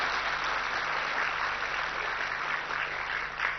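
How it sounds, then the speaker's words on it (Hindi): Steady applause from a gathered audience at a spiritual assembly, a dense even wash of clapping that holds for several seconds with no talk over it. "ताली बजाओ।"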